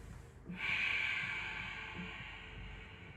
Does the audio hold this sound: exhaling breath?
yes